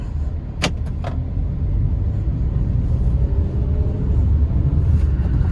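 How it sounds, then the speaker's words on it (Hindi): Heard from inside the cabin, a base Hyundai i20 petrol car accelerates in second gear with a steady, low engine rumble and road drone, after a couple of brief clicks at the start. "अब एक्सीलेटर देना शुरू करता हूँ।"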